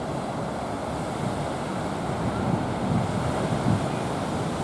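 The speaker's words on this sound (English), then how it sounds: "This is Queenscliff Beach." Surf at Queenscliff Beach in Sydney, a steady broad wash of breaking waves with wind buffeting the microphone, continuous and fairly loud.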